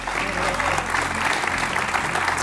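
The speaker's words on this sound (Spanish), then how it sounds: "Público, vamos a darle un aplauso enorme a Mar" A studio audience on a Spanish television game show claps in sustained, loud applause that holds steady throughout.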